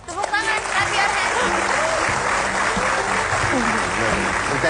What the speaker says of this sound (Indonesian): Tepuk tangan, kasih Arya